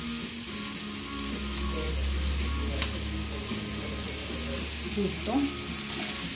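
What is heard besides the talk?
onion sautéing in a pan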